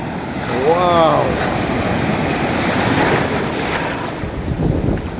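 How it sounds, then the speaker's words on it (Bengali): Raging surf pounds the shore at Cox's Bazar beach, a loud continuous roar of breaking waves and wind buffeting the microphone, with a brief voice rising over it near the start. "দেখুন ঢেউয়ের কি উন্মত্ততা"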